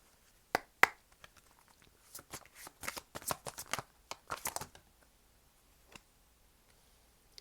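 Oracle cards are shuffled and pulled by hand in a quiet room: sharp papery snaps and clustered riffling clicks, close and crisp, with pauses between bursts and no voice.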